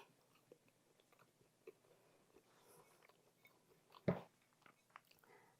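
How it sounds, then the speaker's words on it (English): A bite into soft, airy banana bread slathered with butter, heard as one close, brief chewy crunch amid quiet background noise, followed by a few faint mouth sounds. "I'm going in for a bite."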